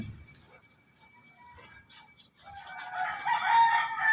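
Gamefowl roosters crow and cluck nearby, one bright crow rising toward the end over scattered clucks and soft background farmyard noise.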